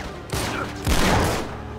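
Gunfire in the video game Uncharted 3: Drake's Deception: two loud, dense volleys of shots, the first short and the second longer, ringing out close with no voices over them.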